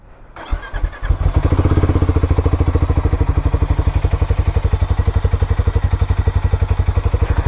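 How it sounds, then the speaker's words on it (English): A Harley-Davidson X440 motorcycle cranks and fires up, then settles into a loud, close, rapid and even thumping idle from the exhaust. "I'll just make you guys hear the exhaust note of this motorcycle"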